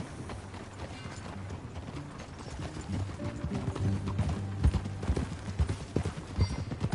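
Horse hooves clip-clop at a steady walking pace in the video game Red Dead Redemption 2, growing louder as they approach, over a low ambient background.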